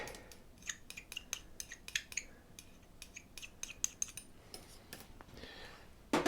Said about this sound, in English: Just going to whisk that up some more until it all comes together